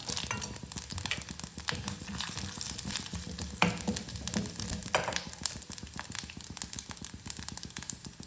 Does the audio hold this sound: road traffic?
no